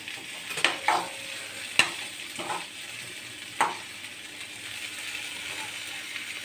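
Chillies, curry leaves and lentils fry in hot oil. A low continuous sizzle is punctuated by a few sharp crackles and spoon scrapes in the pan.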